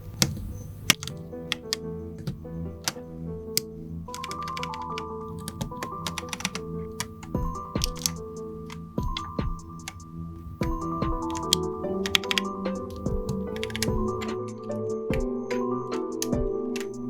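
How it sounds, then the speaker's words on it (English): Keycaps being pressed onto a 40% mechanical keyboard with Akko Purple Lavender switches, a long run of sharp plastic clicks and snaps, irregular and close, sometimes in quick bursts, with no talking. "Now, let's assemble the keycaps."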